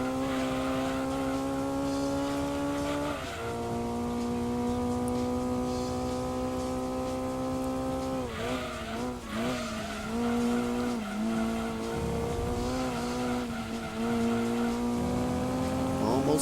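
A Honda Prelude race car in Gran Turismo 2 holds a high, steady engine note at high revs, with tyre squeal and a brief gear change partway through, loud and continuous, and a voice speaks over it.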